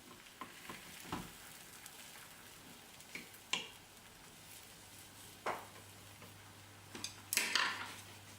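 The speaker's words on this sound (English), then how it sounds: "Roll the omelette back to the other side of the pan again." A tamagoyaki omelette is rolled over in a frying pan, with a soft steady sizzle broken by scattered scrapes and clinks of the utensil against the pan, near and fairly quiet.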